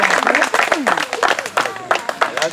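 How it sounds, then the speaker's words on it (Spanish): Audience applause welcoming a woman to the stage at a Spanish-language evening event. Irregular claps sit beneath loud overlapping voices and cheers, with some chatter and calls running through the whole stretch. "Vamos a recibirla con un aplauso."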